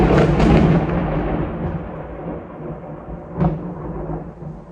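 Heavy rain pours down hard through a violent thunderstorm, loud thunder rumbling near the start and another sharp crack of thunder later, with the downpour continuing steadily underneath and no one talking.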